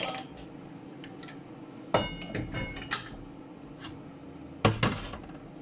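A large metal saucepan knocks and clatters a few times against other pans, with sharp clinks and scrapes against a steady low background hum.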